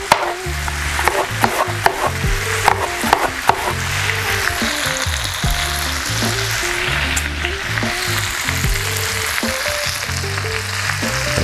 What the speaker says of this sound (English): I'm gonna toss some potatoes in here to start cooking with this.